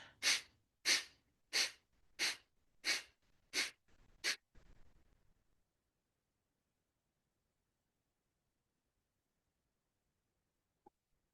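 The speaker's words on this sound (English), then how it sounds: "Keep breathing out." Forceful pranayama exhalations: seven sharp, evenly spaced breaths pushed out through the nose in a steady rhythm, close and loud, then quiet with no talking.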